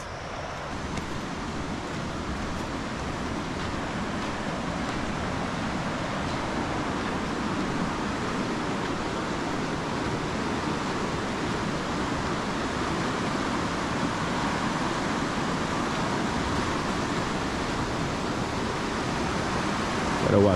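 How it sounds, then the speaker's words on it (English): Steady broadband rush of the Escobar River in Guyana, continuous and fairly close, with no breaks or voices across the stretch. "You can hear the water making that wonderful noise."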